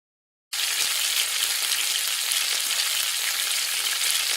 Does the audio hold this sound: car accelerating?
no